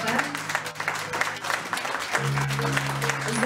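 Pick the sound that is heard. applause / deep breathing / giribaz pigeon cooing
applause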